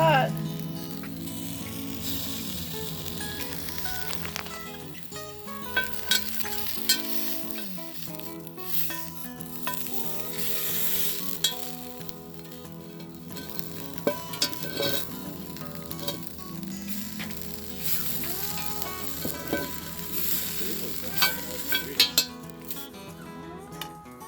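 Corn tortillas fry in a hot cast iron frying pan over a cinder block rocket stove, crackling in a dense, continuous sizzle with occasional scraping and metallic clinks from the pan.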